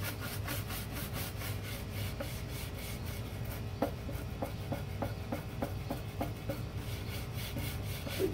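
Teak trim from a 1977 Boston Whaler 21 Outrage gets scrubbed with cleaner, a close rasping back-and-forth rubbing in quick, regular strokes that grow more distinct midway, with no talking.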